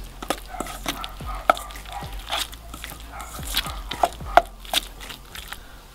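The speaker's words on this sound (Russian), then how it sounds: "И снова перемешиваем." A spoon stirs a fish mixture seasoned with pepper and salt and mixed with two tablespoons of flour, giving soft, uneven scraping and squelching strokes close up, with faint clinks in a quiet kitchen.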